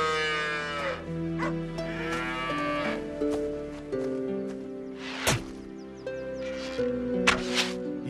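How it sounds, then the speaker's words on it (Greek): Cattle lowing repeatedly on a pasture, several drawn-out moos overlapping in a steady chorus with a few sharp knocks, fairly close and clear, no talking. "Έστειλαν τον Ηρακλή να προσέχει τα βόδια και τα πρόβατα των κυθερών"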